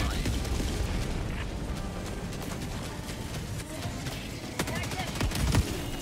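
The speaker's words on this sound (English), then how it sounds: "Artillery incoming." Enemy artillery fire and explosions in Helldivers 2 rumble as a dense, steady barrage of gunfire and blasts, with voices speaking over the din.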